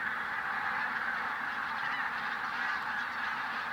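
A large flock of migrating geese cackling at night, a continuous dense chorus of many overlapping honks at a moderate distance with no pauses and no voices.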